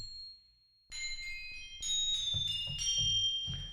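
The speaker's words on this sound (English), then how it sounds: "Crotales, like glockenspiel," Crotales from a Hollywood Orchestra VST ring out as a series of bright, shimmering struck metal tones, each clear ping sustaining and overlapping the next, played alone after a short near-silent start.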